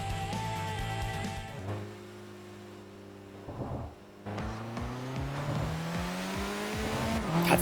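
GTR race car in the video game TXR, engine droning and revving with rising pitch through gear changes, a brief dip in the middle, then steady acceleration, loud and close throughout with no talking.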